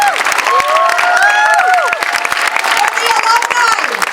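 Audience at a school protest gathering for the Hovsepian kids claps and cheers loudly and continuously, dense steady applause with children's voices and shouts rising over the crowd.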